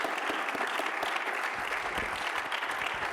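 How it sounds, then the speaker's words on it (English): Audience applause at a teacher of the year ceremony, a steady dense wash of many hands clapping for a few seconds with no voices on top. "I really actually want to give all of you a round of applause"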